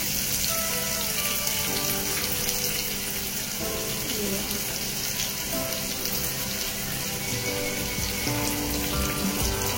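Cashews and chopped onions frying in oil in a pan, a steady, dense crackling sizzle heard up close and continuing throughout without a break.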